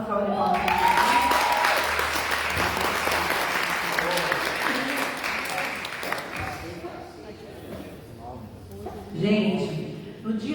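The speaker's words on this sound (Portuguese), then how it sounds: "Apóstolo Antônio, uma salva de palmas." A church congregation applauds an apostle, with a dense, loud burst of clapping that fills the room for several seconds before tapering off, while a voice carries on over a microphone.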